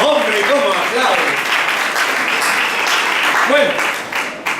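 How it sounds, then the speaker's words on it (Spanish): Men of a church congregation applaud loudly during a Sunday service, a dense, steady wash of clapping that lasts throughout, with some voices talking and calling out underneath. "¡Ah, los hombres cómo aplauden!"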